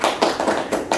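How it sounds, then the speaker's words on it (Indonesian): Audience clapping at a podcast-style gathering, heard as four or five loud, evenly spaced bursts of claps, close and dense, with no talking over them. "Tepuk tangan saudara-saudara."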